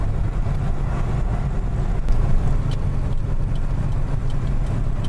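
Car engine held in low gear while descending the steep Bulli Pass, a steady mid-pitched drone heard from inside the vehicle, moderately loud with faint clicks and rattles over it.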